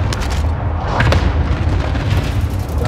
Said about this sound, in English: Transmitting coordinates for airstrike.